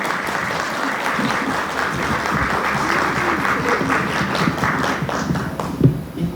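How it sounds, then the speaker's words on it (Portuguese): An audience bursts into sustained applause for Orlando Roberto, dense clapping filling the whole stretch and swelling near the end, with a few scattered thumps and faint voices underneath. "uma selva de palmas"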